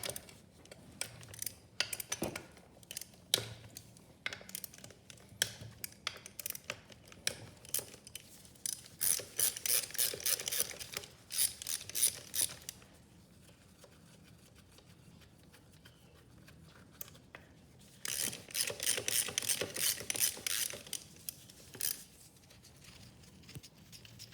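A ratchet clicks in repeated bursts as the pump bolts come off a TH400 transmission, with long runs of fast close metallic ratcheting separated by quieter handling and clinks of tools and parts.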